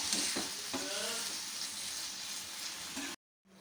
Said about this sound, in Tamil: இந்த தக்காளி வரமிளகாய் எல்லாமே நல்லா வதங்கி வரணும்